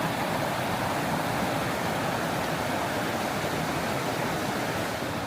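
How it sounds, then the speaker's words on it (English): A small waterfall in Michigan woods pours in a steady, unbroken broadband rush, close and even throughout with no voices. "Like here's a smaller little waterfall"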